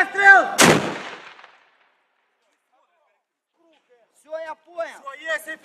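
A single loud artillery blast booms near the start and rumbles away into silence, followed a few seconds later by people talking.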